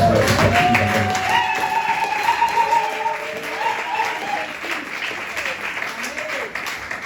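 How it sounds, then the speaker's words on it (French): A congregation at a church service applauds in sustained, dense clapping that gradually eases off, with voices calling out and a speaker talking over it. "Est-ce qu'on peut acclamer le Seigneur encore?"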